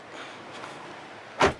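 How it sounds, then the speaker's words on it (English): Rear passenger door of a 2022 Hyundai Tucson Limited closes with a single short, solid thump near the end, after a quiet stretch of faint cabin rustle. "closing the door, nice solid sounding thunk there"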